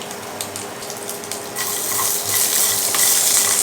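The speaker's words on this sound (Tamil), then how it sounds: "இப்போ வேர்க்கடலையை இந்த எண்ணெய் ஊற்றிட்டு எண்ணெயில் வந்து போட்டுக்கலாம்." Peanuts frying in oil on a low flame, a steady hiss and sizzle that swells louder partway through and keeps up alone without talk.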